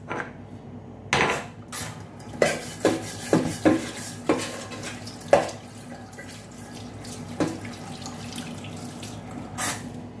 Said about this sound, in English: Before then, let me rinse off this.